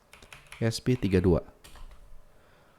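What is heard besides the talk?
typing a URL on a computer keyboard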